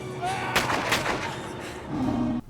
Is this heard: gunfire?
yes